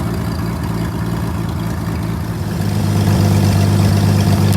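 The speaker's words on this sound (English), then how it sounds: "Gearbox running?" A WW2-era Clark tractor engine runs steadily close by with its gearbox engaged, a low droning idle with a rhythmic mechanical chug that grows slightly louder and heavier partway through.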